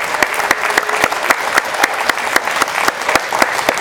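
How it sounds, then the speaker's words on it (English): A crowd claps steadily through a college table tennis championship men's singles final, game seven, with sharp individual claps rising out of a dense, continuous wash of applause. "They're clapping, wanting more"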